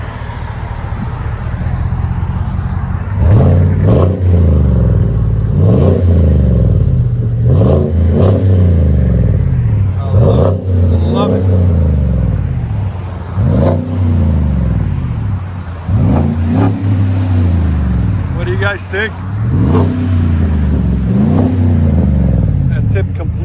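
A 2021 GMC Sierra 3500 HD with a 6.6L gas V8 and Vibrant Street Power muffler revs repeatedly, deep swelling blips rising and falling in a steady rhythm over a rumbling idle, with someone talking briefly near the end.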